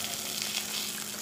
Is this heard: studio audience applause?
no